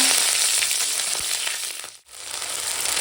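Nigella seeds and green chilies frying in hot mustard oil, a steady close sizzle with bright crackling that drops out briefly near the middle before returning.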